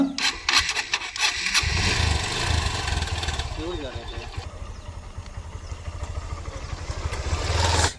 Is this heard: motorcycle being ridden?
yes